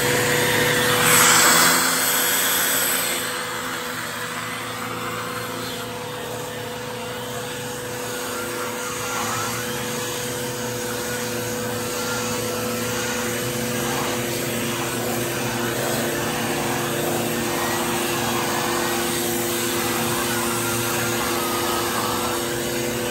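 A Bissell Power Trak 6592 carpet cleaner runs with a steady, loud motor whine and tonal hum, starting with a brief louder surge, then droning continuously.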